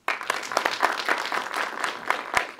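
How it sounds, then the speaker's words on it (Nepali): A small audience at a Nepali media event claps briefly, with scattered, uneven hand claps close by that start abruptly and continue for a couple of seconds. "उहाँलाई चाहिँ ताली दिउँ."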